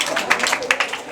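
A classroom of pupils claps for a boy who has just answered a maths question, a short burst of scattered, fairly close hand claps with uneven accents and no talking.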